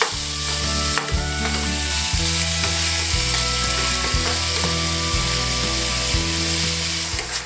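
Ground meat browning in a frying pan for goulash Americano, stirred and broken into chunks, gives a steady close sizzle with repeated scraping strokes in a regular rhythm and no voices.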